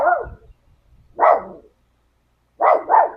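A dog barks at a neighbor's dog in the yard next door in a garden setting, three loud close barks with a short pause after the first and a quick double bark at the end.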